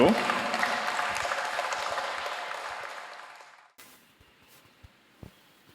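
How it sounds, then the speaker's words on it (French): An audience applauds a team at a quiz-style event, a broad wash of clapping that fades over about four seconds and cuts off, leaving quiet room sound with a few faint knocks. "Applaudissez."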